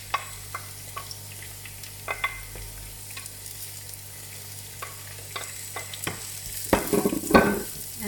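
Onion and garlic frying in a pan, a low steady sizzle with scattered utensil clicks and stirring scrapes that grow louder near the end, close by and without speech.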